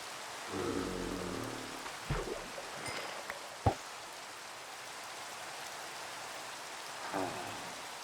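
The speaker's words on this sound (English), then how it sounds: "this rain is going to stop any moment" Steady rain falls in Minecraft as a soft, continuous hiss, broken by a few faint short clicks and thuds from the game.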